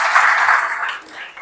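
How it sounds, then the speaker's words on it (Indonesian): Church congregation applauding during an Indonesian Independence Day sermon, a dense, steady wash of clapping from many hands that fades slightly toward the end. "Kasih tepuk tangan untuk Tuhan."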